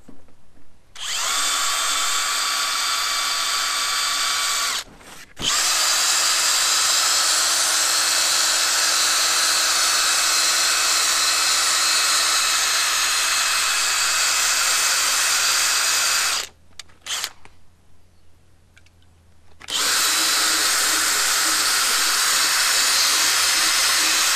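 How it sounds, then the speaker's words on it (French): A power drill runs at full speed while polishing a car headlight lens, giving a loud, steady whine that cuts out briefly twice and then resumes, with no talking. "Donc on va la mettre au max, la perceuse."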